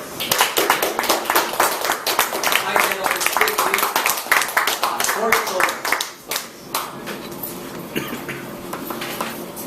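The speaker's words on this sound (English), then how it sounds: "let's give a warm applause to Advanced Communicator Silver, Mike Reyes" Members at a Toastmasters club meeting give warm applause, a room of people clapping briskly and fairly close for about six seconds before it trails off into quiet murmurs.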